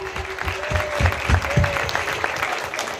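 An audience applauds steadily throughout, a dense patter of many hands clapping at moderate loudness.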